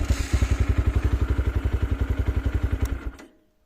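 A new Lifan motorcycle engine runs with a rapid, steady thumping beat at close range, then cuts out and stalls, leaving near silence at the end.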